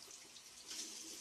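Tap water runs steadily to wet a shaving brush before bowl lathering with Arko shave stick soap, a short, close, even splash with no talking.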